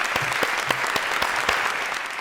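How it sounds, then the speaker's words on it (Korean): A congregation at a Sunday church service applauds, many hands clapping in a close, moderately loud patter with distinct individual claps standing out from the crowd, and no one speaking over it. "한번 힘차게 박수해 주시기를 바랍니다"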